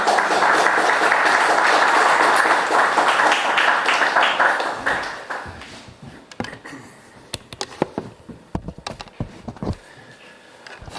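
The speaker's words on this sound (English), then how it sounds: "please join me in a very warm round of applause for our speaker, Mr. Chotzakoglou" An audience at a lecture on historic monuments in Cyprus gives a speaker a warm round of applause, full and sustained at first, then thinning into scattered individual claps that trail off.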